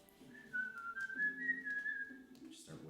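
Someone whistles a short tune at a tabletop Dungeons & Dragons one-shot: a clear, wavering melody of a few sustained notes, fairly quiet and close, with a faint low murmur beneath and a brief clatter at the end.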